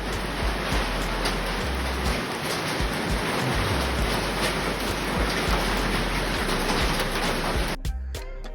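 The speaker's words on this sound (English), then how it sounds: "It ain't even raining, it's hailing." Hail falling outdoors beside a truck, a dense loud hiss of pelting ice over a low rumble that runs steadily for several seconds before cutting off abruptly near the end.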